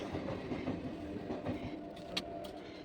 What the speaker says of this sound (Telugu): మీకు ట్రైన్ వస్తూనే ఉంది